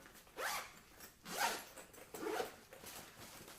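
Three zipper pulls, each a short scratchy rasp, close and fairly quiet, as a Crumpler Mild Enthusiast camera and tablet bag is zipped shut.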